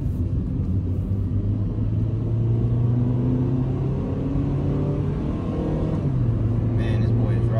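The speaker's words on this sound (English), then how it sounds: "let me show you guys, take this little pull real quick." Honda Civic engine pulls hard under acceleration, a loud steady drone rising in pitch through the run with a brief drop near the end like a gear change, heard from inside the car.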